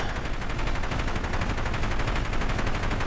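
Loud, dense weapon fire from a helicopter in a video game, a steady unbroken rattle of launches and blasts that lasts throughout with no pauses and no voices.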